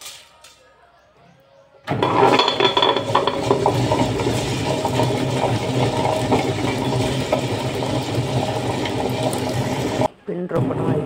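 A wet grinder churns soaked millets, lentils, fenugreek and rice into dosa batter, a loud steady motor whir with sloshing that starts abruptly after a quiet moment and runs on before a brief stop near the end.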